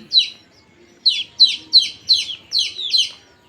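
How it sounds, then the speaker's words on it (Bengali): Birds call outdoors beside a garden of bitter gourd plants, giving a series of about seven loud, close, sharp chirps, one alone and then six in quick succession over quiet background. "আর পাখির ডাক তো শুনতে পাচ্ছেন।"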